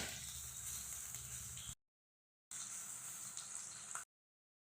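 Onion and green chilies fry in a pan, a steady quiet hiss of sizzling oil in two stretches broken by short silences.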